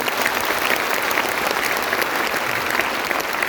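Audience applause from a large crowd at an executive business event, a dense, loud, sustained wash of clapping that stays even throughout.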